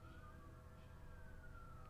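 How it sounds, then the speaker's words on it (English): Sirens wail in a sandbox zoo-building video game, a steady rising-and-falling tone sustained over a low rumbling background throughout, fairly faint and with no one talking. "Oh, all kinds of sirens."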